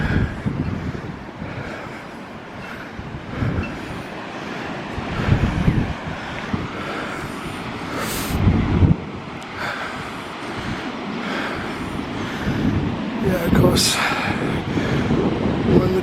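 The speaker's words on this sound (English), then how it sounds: "These waves are much bigger and much higher up, more likely to do damage." Storm waves crash and surge at Watchet harbour in strong wind. The rough buffeting roar is punctuated by heavier breaking swells, with brief voices nearby.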